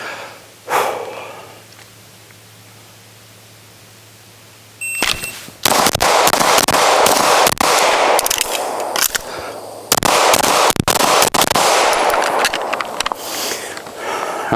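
Live pistol fire at a range of targets: a single early shot, then after a pause a rapid string of loud, sharp, close gunshots, a short break, and a second fast volley.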